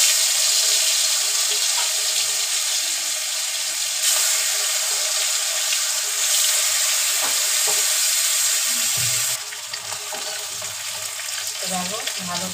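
Rohu fish fries in hot oil in a wok, giving a loud, continuous crackling sizzle close up, with a brief clatter and stirring sounds near the end.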